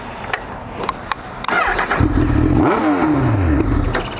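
A Honda CB 1000 R motorcycle engine starts after a few clicks and settles into a loud, throaty idle with a rumbling exhaust.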